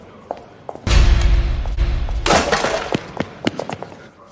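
A necklace being smashed, heard as a sudden loud crash and scatter followed by scattered small clattering taps and thuds, close by.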